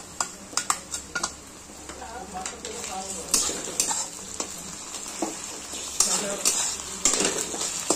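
Onions with ginger-garlic paste frying in a pan for mutton curry, a steady sizzle under repeated clatters and scrapes of a spatula stirring against metal, close and fairly loud throughout.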